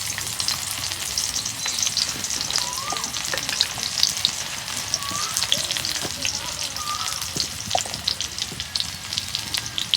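Onions sizzle and fry in hot oil in a pan for a simple home-cooked iftar dish with green chillies. The crackle is steady and bright throughout, with a few faint scrapes and brief indistinct sounds mixed in.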